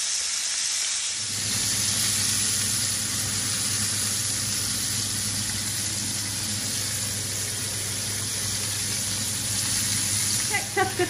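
Cod fillets fry over low heat in a Lahori-style preparation, giving a steady, close sizzle and hiss that runs unbroken from start to finish after a brief quieter opening.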